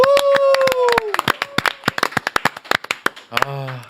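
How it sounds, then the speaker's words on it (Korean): A talk-show studio audience welcomes a lawyer guest with a few seconds of sparse, distinct hand claps in a quick irregular rhythm, close and crisp, as a voice speaks over the start and the end. "김정민 변호사님 박수로 맞이합니다"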